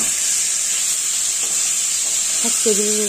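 Masala spices sizzling with sugar in a pan for a prawn and kohlrabi dish, a steady hiss of frying oil throughout, with a few soft scrapes and clinks near the end.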